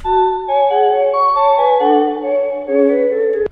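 An original loop sample using the Butterfly Paralyzed preset plays alone as sustained melodic tones, layered notes shifting in pitch at a steady level, with a brief cutoff at the end.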